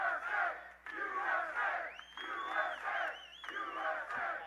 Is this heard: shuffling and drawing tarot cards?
no